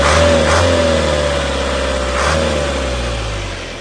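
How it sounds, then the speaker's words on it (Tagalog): A truck's inline 4HJ diesel engine revs loudly up close, a deep rumbling drone rising in two surges and easing back, with no talking over it. "Grabe yung power na itong 4HJ na ito"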